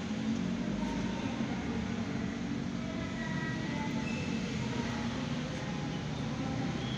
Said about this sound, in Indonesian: Kereta cepat datang.